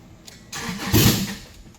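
A budget Subaru Legacy rally project car cranks briefly and its engine catches with a loud close-up roar that settles down as it fires after being refuelled.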